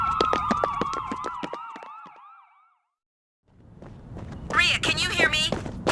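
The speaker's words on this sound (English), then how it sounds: "Ambulances. Tons of them." Several overlapping ambulance sirens wail loudly in the video game Trauma Team, their rising and falling tones sweeping for about two seconds before fading to silence, then a burst of busy sound with voices returns.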